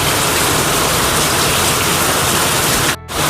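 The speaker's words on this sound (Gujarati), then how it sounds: "અને વરસાદ પણ ફૂલ ચાલુ થઈ ગયો છે।" Heavy rain pours steadily in a dense, loud, continuous hiss, close and unbroken apart from a brief dropout near the end, with no voices.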